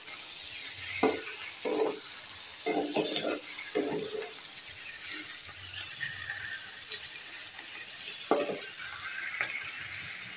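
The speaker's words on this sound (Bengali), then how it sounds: "চাল কুমড়ির চপ ভাজি।" Ash gourd fritters fry in oil in a slippery, warped wok, making a constant hissing sizzle, with scattered clinks and scrapes of a utensil against the metal.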